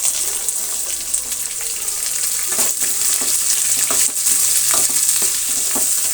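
Onions and green chillies fry in hot oil in a pan for chitranna, with a steady loud sizzle and the scrape of stirring running throughout, close and without talk.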